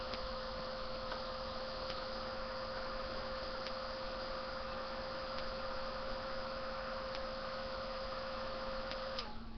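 A heat gun blows steadily to dry freshly applied work, a constant whirring hum with a high tonal whine, interrupted by faint periodic clicks, then cutting off at the very end.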